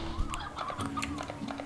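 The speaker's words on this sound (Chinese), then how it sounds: "野母鸡，一种喜欢漫步在森林的真正鸟类，野鸟类" Wild hen clucking in the game Slime Rancher, a run of short, close clucks and calls in quick succession over a steady low game hum.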